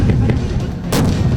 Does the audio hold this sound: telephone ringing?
no